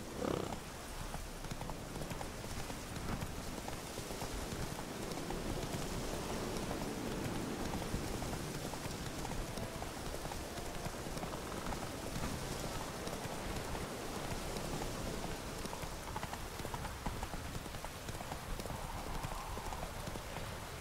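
Roach the horse's hooves clip-clop steadily in The Witcher 3, a continuous close trotting rhythm over a rainy, rustling ambience with no talk.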